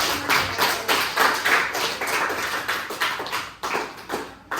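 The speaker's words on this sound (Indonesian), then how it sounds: "Oke, bagus, kita tepuk tangan dulu." Children in a classroom clap together in a series of rhythmic bursts, fairly close and loud, with short pauses between the rounds of clapping and no talking.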